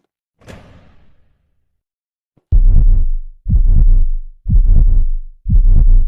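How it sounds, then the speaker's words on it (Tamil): A soft whoosh sweeps by, then four heavy, booming heartbeat thumps follow, loud and evenly spaced about a second apart. "ஹார்ட் பீட்ல ரைஸ் ஆகுற சவுண்ட் எல்லாம் கேக்குது"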